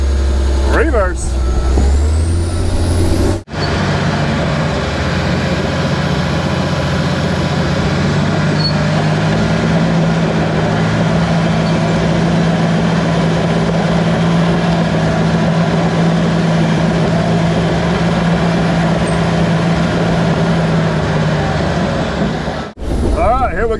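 A John Deere 850J bulldozer engine runs steadily and loudly while the machine reverses, a deep continuous drone with a droning low tone throughout, cutting out abruptly at the end.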